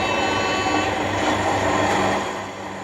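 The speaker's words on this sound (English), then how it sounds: "you can hear the cab setup procedure, including the AWS self-test" A model Class 37/6 diesel locomotive runs through its cab setup, with a continuous, even electronic hum and faint tones of the AWS self-test, close and moderately quiet, easing off slightly at the end.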